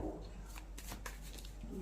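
Tarot cards being shuffled by hand, a few quick riffling bursts close up over a steady hum, with brief faint speech.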